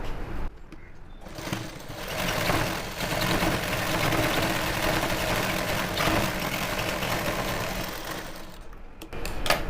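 A sewing machine runs near-continuously for almost ten seconds, sewing a second line of stitching on a gathered pant, a dense close whirring with only brief breaks at the start and end.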